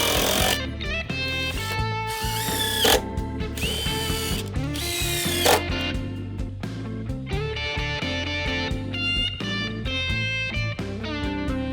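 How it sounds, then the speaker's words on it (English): Power drill driving screws into deck boards during a deck rebuild, with repeated ratcheting, whirring bursts of the driver close by and no talk. "Drive your screw. Don't release the pressure until you get all your screws in."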